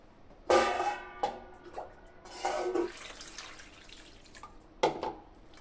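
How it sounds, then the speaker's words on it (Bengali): Water splashes and drips as cut pieces of raw green mango are washed, with a few distinct bursts of pouring and sloshing separated by quieter gaps, close by and without speech. "আমগুলোকে আমি পরিষ্কার করে ধুয়ে নিব জল দিয়ে দেবো"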